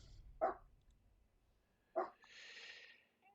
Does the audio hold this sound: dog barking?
yes